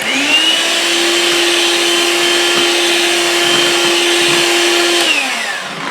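An electric hand mixer whirs steadily while creaming butter for caramel-toffee cookies, a continuous motor drone with a high whine that holds level for about five seconds before spinning down, with no talking.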